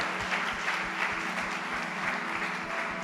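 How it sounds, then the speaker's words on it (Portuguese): A church congregation applauds during a sermon, steady dense clapping over a low musical hum, continuous for a few seconds. "dê um aplauso ao Senhor Jesus"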